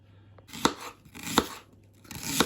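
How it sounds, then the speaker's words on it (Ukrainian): A knife chops onions for shashlik on a board in three sharp, evenly spaced thuds, each with a short rustle, close and clear with no talking. "Нарізаємо цибулю."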